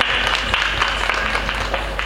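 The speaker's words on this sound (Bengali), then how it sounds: "আমাদের কোরিওগ্রাফার জন্য একটু হাততালি হয়ে যাক।" An audience at a stage event claps for the choreographer, a dense, steady wash of applause from a crowd lasting the whole moment with no talk over it.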